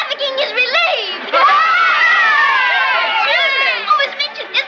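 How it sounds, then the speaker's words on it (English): A crowd cheers and shouts hooray in a 1930s drama, celebrating the relief of Mafeking. Many voices rise into a loud, sustained roar of excited yelling, with higher shrieks and calls over the top. "Do you hear the cheering?"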